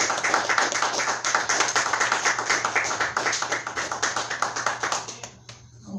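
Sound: congregation hand clapping

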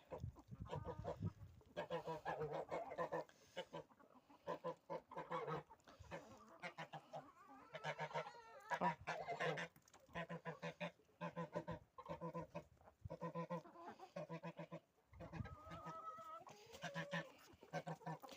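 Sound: geese honking

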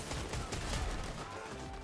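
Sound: gunfire in the video game Fortnite

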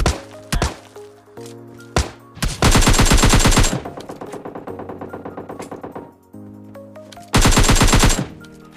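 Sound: shotgun fire in PUBG Mobile Lite, video game

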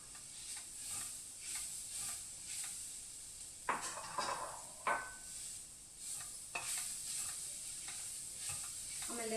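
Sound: stirring and frying bhindi (okra) curry in a pan

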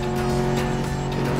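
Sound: cars chasing in video game Medal of Honor Warfighter

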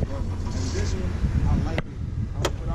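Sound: 2018 Honda Accord 2.0 turbo engine running

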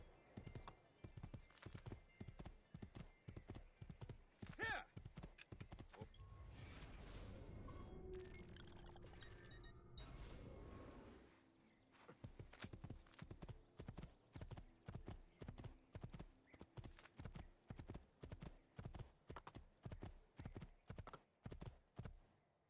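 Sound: horse hooves clip-clopping in video game Assassin's Creed II

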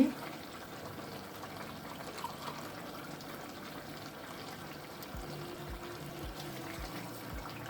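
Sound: water poured from a glass into a pot of green beans

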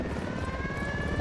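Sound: helicopter in a video game

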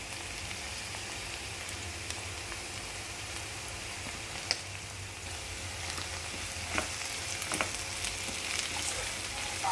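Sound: chopped cabbage and carrots cooking in a pan

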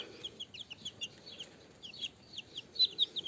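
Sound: young poultry chirping and clucking

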